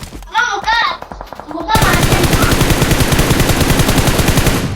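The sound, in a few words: P90 gunfire in video game BGMI PUBG Mobile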